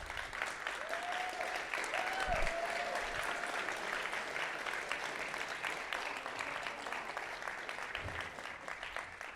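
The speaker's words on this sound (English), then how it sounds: "Let's give a big round of applause for James, Owen, and Destiny," Sustained applause from an event crowd after a debate night featuring James, Owen and Destiny, a steady wash of many hands clapping at moderate distance, evenly continuing for several seconds.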